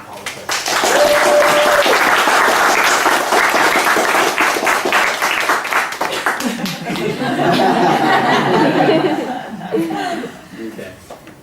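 An audience at a 2012 SNV Vietnam performance award ceremony breaks into loud, sustained applause mixed with chuckles and laughter. The clapping thins out toward the end, and voices can be heard among it.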